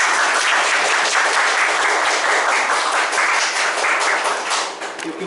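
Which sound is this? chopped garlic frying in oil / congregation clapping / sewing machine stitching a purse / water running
congregation clapping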